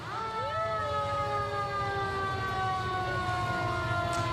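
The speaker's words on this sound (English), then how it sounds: "This 100-foot-tall platform ladder truck driven by Fort Worth's bravest and ridden on by many of the much-appreciated local firefighters" Siren on a 100-foot platform ladder fire truck from the Fort Worth fire department, rolling in a downtown holiday parade of lights; a steady, loud rising and held wail with a low engine rumble underneath.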